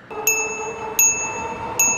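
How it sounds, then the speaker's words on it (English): Bell on a MeeBike Gallop e-bike ringing three times at even intervals, each a bright close ding that rings on and decays before the next. "bike companies put like a little bell like this on here"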